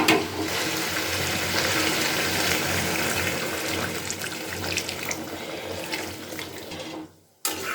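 Hot water is poured slowly into a pan of jackfruit and prawn curry, a steady close splashing stream that runs unbroken for about seven seconds before cutting off abruptly.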